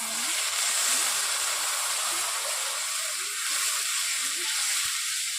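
Turmeric and chili powder sizzle in a pan as water goes in while cooking a Bengali egg and potato curry, giving a steady, fairly quiet frying hiss with no voices.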